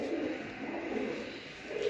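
A pigeon gives soft, low cooing, faint and steady over about two seconds with no talk.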